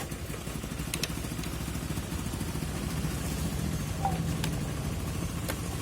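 A Honda Vario Techno scooter's engine idles at close range, a steady low mechanical hum with light clattering ticks running evenly throughout, no speech.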